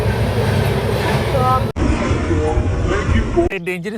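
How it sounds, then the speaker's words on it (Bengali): Inside a moving train, a steady rumble with rattling carriage noise runs for a few seconds, then cuts to quieter, different sounds near the end, with people talking over it. "আমরা ট্রেনে উঠে গেছি"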